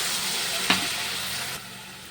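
Whole spices, namely cumin, bay leaf, cardamom, cinnamon and cloves, sizzle loudly in hot oil in a pan for a vegetarian chhana bora curry. A burst of crackle comes as they land, then a steady fry that softens near the end.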